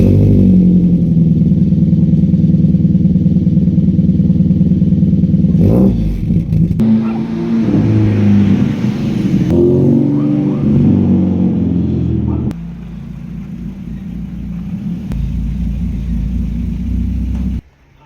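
A Ford Figo engine cranks on a cold start and catches, then settles into a loud rough idle with rumbling, a few revs and clattering, before cutting off at the end.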